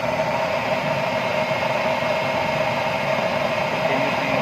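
A stove burner flame runs continuously under a pot of water nearing the boil, giving a steady, even hiss with a faint low rumble and no breaks.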